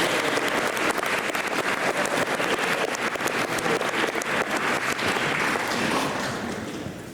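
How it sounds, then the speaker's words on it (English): A school audience gives its teachers a sustained round of applause at a semester-end gathering, dense and loud throughout and fading slightly at the end, with no talking over it. "Let's give your teachers a round of applause for everything."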